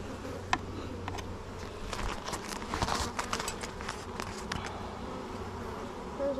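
Honey bees hum at an opened beehive during a late-season inspection, a steady close buzz mixed with scattered light ticks and taps of handling.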